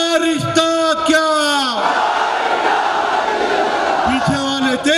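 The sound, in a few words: crowd chanting a slogan in response at a rally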